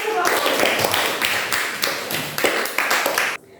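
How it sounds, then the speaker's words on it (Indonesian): A class of tenth-grade students claps after their group presentation in a classroom, loud crisp applause in uneven waves that stops abruptly at the end. "Silakan tepuk tangan."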